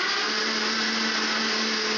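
Mixer grinder blending pineapple pieces into puree, a loud steady high-pitched whir running continuously at full speed with no pauses.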